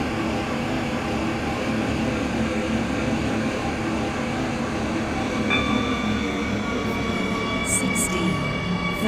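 Metro train R132 running in the video game SCR, heard from the cab: a steady, loud rumble of wheels and motor throughout, with a faint high tone and brief squeal rising near the end.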